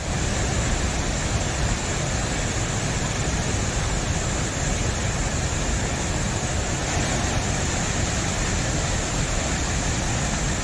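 Floodwater roars down Suruli waterfall after heavy monsoon rain, a dense, unbroken rushing wash that stays loud and steady from start to finish, with no voices.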